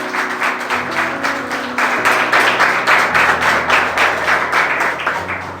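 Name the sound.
congregation applauding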